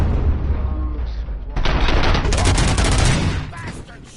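Rapid automatic gunfire bursts in Robocop: Rogue City break out suddenly partway through, loud and close, rattling for about two seconds before tapering off over low background rumble.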